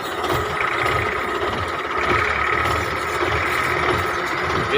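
Tractor hauling a loaded 16-foot trolley, its engine droning loud and steady throughout with a constant mid-range hum and slight rough knocking, close by and without speech.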